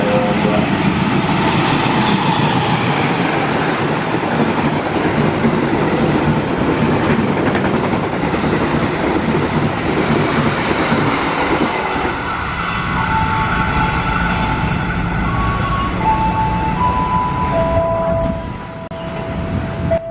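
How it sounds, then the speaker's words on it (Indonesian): Bengawan passenger train 282 rolls past on the rails with a loud, steady, close rumble and rattle that eases toward the end, where thin sustained squealing tones rise above the fading roar. "Kemudian melintas kereta api Bengawan"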